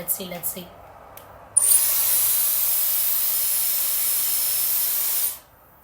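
A Dyson Airwrap hair styler switches on with a sudden rush of air and blows a steady, loud whoosh for several seconds before shutting off. A voice is heard briefly before it starts.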